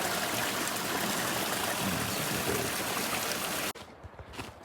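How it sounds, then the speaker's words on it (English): A mountain stream tumbling over little waterfalls gives a steady, close hiss of rushing water that cuts off abruptly near the end, leaving quiet outdoor ambience with faint movement, no speech. "Goes all the way down here. Little waterfalls."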